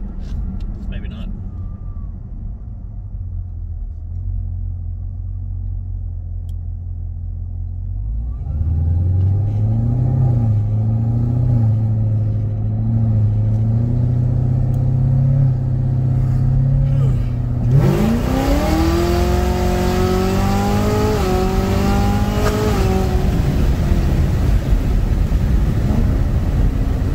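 A 2018 Chevrolet Camaro ZL1 with cold air intake, upgraded pulley and E85 tune accelerates hard from inside the cabin, a low engine drone swelling into a loud rising roar with sharp upshift sweeps, talk faintly beneath.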